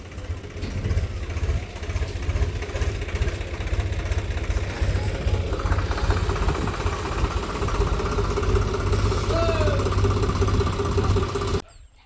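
A tractor engine idles steadily at close range, a continuous low rumbling throb that holds an even level for several seconds before cutting off abruptly near the end.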